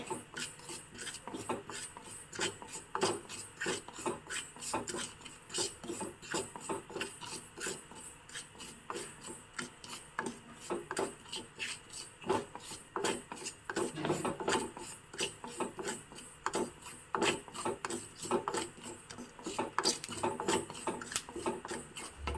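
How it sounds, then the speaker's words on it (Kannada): A spoon or spatula stirs spice seeds dry-roasting in a pan for Kota Brahmin tilisaru, scraping and rasping in repeated uneven strokes, fairly quiet and close, with no talking. "ಚೆನ್ನಾಗಿ ಕೆಂಪಗೆ ಹುರ್ಕೋಬೇಕು ಕಾಳುಗಳನ್ನ ಪ್ರತಿಯೊಂದು ಮಸಾಲ ಪದಾರ್ಥವನ್ನು ಆಗಿ ಹುರಿಬೇಕಾಗತ್ತೆ"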